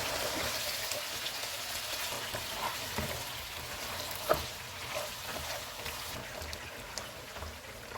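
One kilogram of chicken sears in hot oil on a stove at full flame for white biryani, producing a soft, steady sizzle with a few sharp stirring knocks and no voices.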